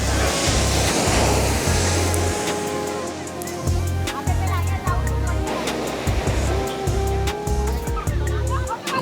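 Sea waves wash onto the beach at Somnath on the coast, a steady loud surf roar with low rumbling surges throughout, and faint voices in the background.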